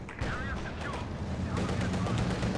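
Tank cannon fire and explosions ring out in Company of Heroes 2, a T-70 advancing and firing with a minor splash blast, several sharp reports in quick succession under a commentator's voice.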